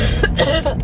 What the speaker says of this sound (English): A yawn and a cough at the same time.